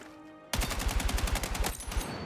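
A scoped weapon in Battlefield 6 fires a fast, sustained automatic burst. It is fitted with a muzzle brake, an extended barrel and a 36-round magazine, and the shots come as loud, evenly spaced reports with no pauses.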